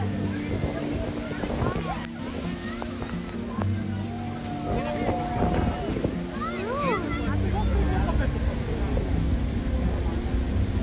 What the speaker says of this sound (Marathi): आताच आमची बोट हॉर्सशू फॉल्समधून आलेली आहे जो की कॅनडाच्या साईडने आहे